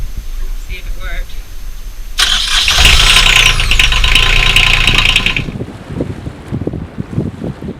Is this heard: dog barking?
no